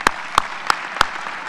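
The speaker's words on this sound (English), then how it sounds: "Let's give Tim a round of applause, please." Applause from an audience at a military change of command ceremony, with four sharp, evenly spaced claps standing out over a steady wash of clapping, close and moderately loud.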